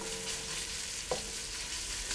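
Prosciutto and pancetta fry in a pan, a soft steady sizzle with one brief clink of a utensil midway, no talking.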